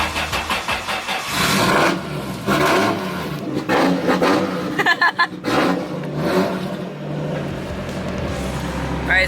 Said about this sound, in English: Alright, so we just turned the car over.